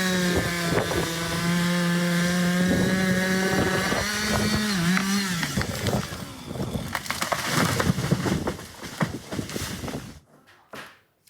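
Chainsaw felling the Sycamore Gap tree, the famous Northumberland landmark, at night in September 2023: a loud, steady engine drone with rising and falling revs for about ten seconds, then a few faint bumps before near silence.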